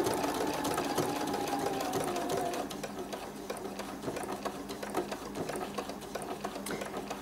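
Sewing machine topstitching slowly along a jeans hem, a close, steady whirring motor with rapid ticking needle strokes that eases slightly lower partway through and keeps running without talk.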